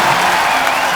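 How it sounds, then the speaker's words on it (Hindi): A television studio audience breaks into loud, dense clapping with some cheering, sustained and close throughout. "एक बार रितेश देशमुख के लिए जोरदार तालियां।"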